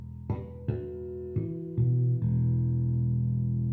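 A Carvin SB4001 bass guitar rings out a series of about five plucked harmonics, clear, bell-like notes, each followed by a reverb tail, with the last note sustaining and blooming. No one speaks.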